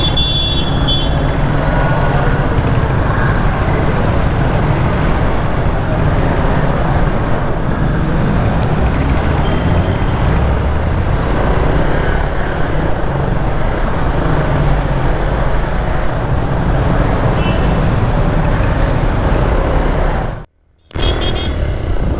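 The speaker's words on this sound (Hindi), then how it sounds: "ट्रैफिक बहुत लंबा है भाई" Heavy road traffic in a long jam on a mountain road on the way to Darcha, with a continuous loud rumble of cars, trucks and bikes close by and no talk, ending in a brief dropout.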